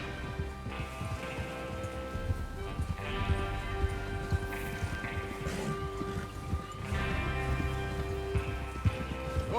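Horses gallop in Red Dead Redemption 2 as a gang rides out to rob a train: continuous rapid hoofbeats drumming under a low rumbling background, steady and moderately loud, with no clear speech.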